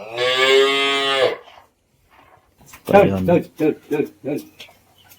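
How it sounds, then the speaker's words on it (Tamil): Cows and calves penned in a shed in Sri Lanka: one loud, drawn-out moo sounds close by, followed by a person talking in short bursts. "பசுமாடு கன்றுகளை வந்து இந்த கொட்டிலில் அடைச்சி வச்சுருக்காங்க"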